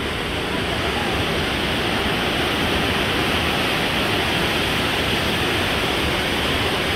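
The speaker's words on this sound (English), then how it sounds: "You got the waterfall right there streaming all the way down" Waterfall at Watkins Glen State Park, a steady dense roar of falling water filling the whole clip at close range, broad and unbroken with no voices over it.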